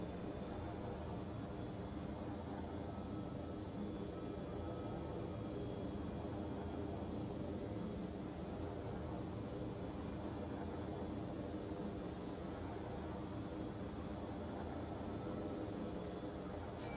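Jet aircraft engine in a video game, a quiet, steady broadband roar that holds level for the whole stretch with no breaks and no talking.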